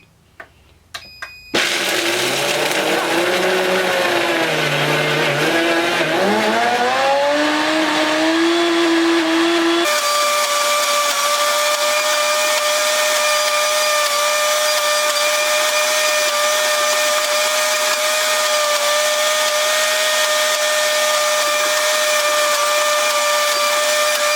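An ELECHOMES 1600W commercial blender grinding nuts: a few clicks as it is switched on, then a loud motor whine that climbs and dips while the nuts churn, settling into a steady high-pitched roar.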